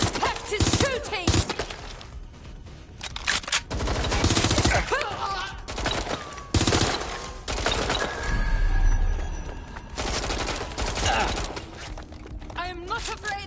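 Gunfire in the video game Watch Dogs: Legion cracks in loud bursts and volleys, mixed with impacts and shattering, while in-game voices talk over the fighting.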